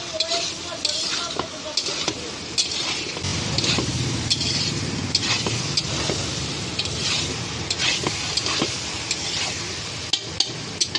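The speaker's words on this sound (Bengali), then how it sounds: "এতে আস্তে আস্তে সেদ্ধ হচ্ছে, জিনিসটা কষাও হচ্ছে।" Vegetables being stir-fried and sautéed in a pan, a steady close sizzle with frequent scraping and stirring clicks throughout, loud and continuous.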